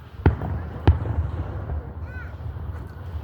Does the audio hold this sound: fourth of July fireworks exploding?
yes